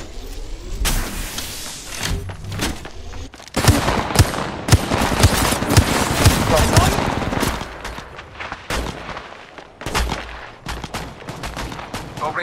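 Gunfire in the mobile shooter Apex Legends Mobile rattles in loud bursts and sustained automatic volleys, with thuds and impacts mixed in.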